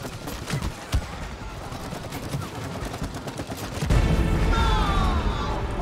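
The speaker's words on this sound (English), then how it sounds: "Explosion!" In the It Takes Two video game, a wasp queen explodes in a sudden loud burst that follows a run of sharp popping blasts, leaving a sustained roar of debris and crackle.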